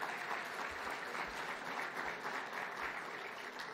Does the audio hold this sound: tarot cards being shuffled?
no